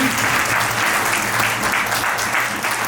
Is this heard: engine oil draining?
no